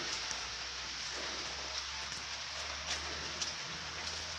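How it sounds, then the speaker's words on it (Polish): Steady rain pours down outside a greenhouse, a dense continuous hiss with scattered louder drips and patters landing on nearby surfaces, no voices over it. "Wszystko mokre. Deszcz się leje."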